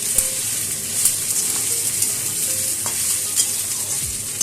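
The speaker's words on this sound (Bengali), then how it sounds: "এবারে আমি ওলগুলোকে এর মধ্যে নামিয়ে নেব, নিয়ে এটাকে ভালো করে কষাবো।" Cubes of elephant foot yam stir-fry in a pan with spice paste, sizzling steadily as a spatula scrapes and stirs now and then.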